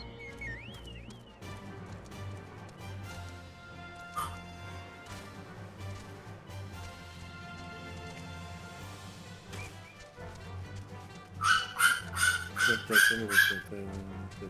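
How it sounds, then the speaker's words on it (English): A squeaky toy sounds in the Final Fantasy XIV game during a Castrum Centri breakout, a quick run of bright rhythmic squeaks near the end over game music and ambience. "No, that was a squeaky toy, I believe."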